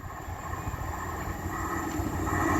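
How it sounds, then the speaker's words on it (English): A class 195 train on the Leeds to Manchester Victoria service approaches Castleton, a steady rumble building louder as it nears. "The next train to be coming past will be a class 195 from Leeds to Manchester Victoria."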